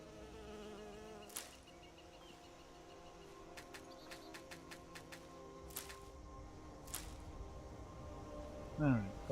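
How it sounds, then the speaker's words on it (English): Hornets buzzing around a nest in the Skyrim video game, a soft steady insect drone under a series of light ticking clicks, with a voice speaking near the end. "That's a hornet nest."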